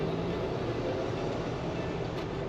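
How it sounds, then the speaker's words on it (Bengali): A mail train rolls past near Farakka while traffic sits in a jam, producing a steady, even rumble that stays constant from start to finish without distinct horn blasts. "মেল ট্রেন যাচ্ছে।"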